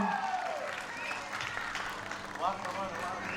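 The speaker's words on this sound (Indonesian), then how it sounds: "Tepuk tangan dulu dong" A crowd at the opening of a literature stage event in Indonesia bursts into applause, a sustained wash of clapping with a few voices and cheers rising over it.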